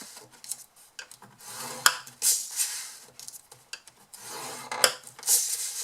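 Paper being scored by hand at one-inch marks around the sides of a box lid, with short scraping, rubbing strokes in bursts and pauses, close and fairly quiet.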